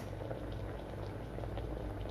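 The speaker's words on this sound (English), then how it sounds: "Here water changes into water vapors by heating." Water heating to a boil gives a soft, continuous bubbling and simmering hiss, faint and steady at close range, with no voices.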